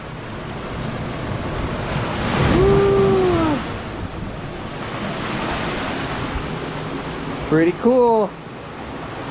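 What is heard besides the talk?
ocean waves in a sea cave at high tide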